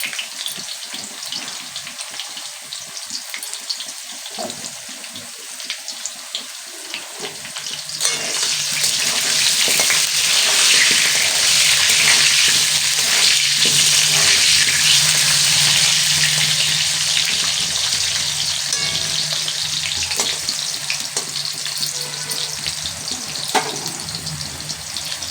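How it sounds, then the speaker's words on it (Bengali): Potatoes lightly salted and frying in a pan: a quieter crackle at first, then a loud, dense, even sizzle swelling up and holding steady to the end, with no talking. "এখানে আলুটা ভাজা হচ্ছে"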